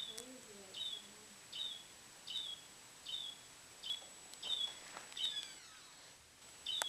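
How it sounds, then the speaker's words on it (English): Birds chirp outside in a quiet setting, with short, faint calls repeating at a steady rhythm roughly every second. "There's these birds going crazy outside."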